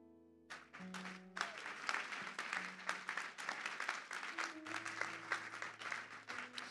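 Applause starts abruptly after a low tonal hum and swells into dense, sustained clapping and cheering from a sizable church congregation, a droning tone lingering beneath.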